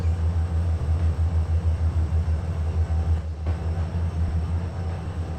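A heavy 10,000-ton freight train leaving Selkirk yard in the Trainz 2022 railroad simulator rolls past with a steady, deep, continuous rumble and a faint wheel hiss, loud and unbroken, with no voices.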